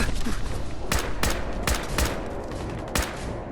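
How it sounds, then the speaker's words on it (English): Gunfire rattles through a Fallout 4 firefight in rapid, dense volleys, with several sharp, louder shots standing out over a continuous noisy backdrop of combat sound. "Who's still shooting at me?"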